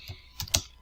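A few quick keystrokes on a computer keyboard, three short clicks with the last two close together, near and fairly crisp, with no talking.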